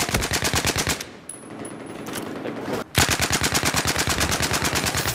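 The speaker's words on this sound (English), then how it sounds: "Enemy machine gunner west of your location." Enemy machine gun fire in a video game rattles in fast, loud, evenly spaced bursts. It pauses briefly in the middle, then resumes with another sustained rapid-fire burst.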